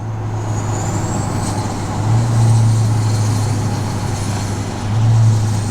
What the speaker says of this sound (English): You hear the exhaust brake here?